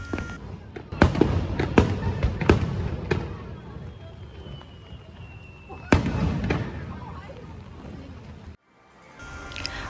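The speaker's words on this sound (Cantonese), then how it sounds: "聽到出邊砰砰聲喎，原來放緊煙花" Fireworks burst outdoors at night in the American Village area of Okinawa, a string of sharp booms with gaps between them, mid-distance, over crowd murmur and traffic-like background noise, with a louder single blast near the middle.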